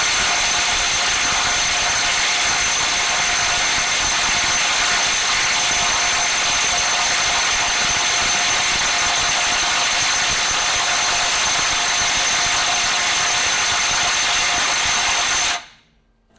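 FLEX 24V compact impact wrench in reverse at 450 foot-pounds, hammering on a large fastener in a loud, sustained rapid rattle with a high whine, stopping abruptly at the end.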